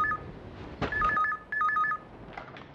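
A telephone rings indoors in a Marathi household, short bursts of electronic trills repeating in two clear rings, moderately loud with no talk over them.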